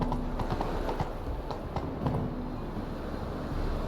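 A horse trots in The Witcher 3: Wild Hunt, its hooves clip-clopping in a steady, close rhythm over a constant ambient rumble, with no voices.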